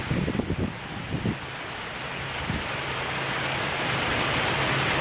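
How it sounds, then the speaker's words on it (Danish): Heavy Christmas Eve rain pours in a steady, loud, broadband hiss that thickens over several seconds, with a few low knocks and thuds early on. "Øsjask regnvejr."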